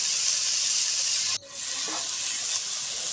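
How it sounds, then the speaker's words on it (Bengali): Potatoes and gime greens (a leafy green) sizzle on low heat with a steady bright hiss, briefly dipping as they are stirred, then resuming with soft scraping. "এবার শাক এবং আলু সিদ্ধ হওয়া পর্যন্ত হালকা আঁচে নাড়াচাড়া করে নেব।"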